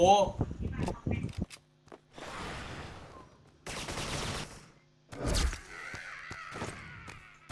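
Gunfire in the online shooter Sudden Attack, arriving as several separate loud bursts and sharp shots between quieter gaps, with someone talking briefly at the start.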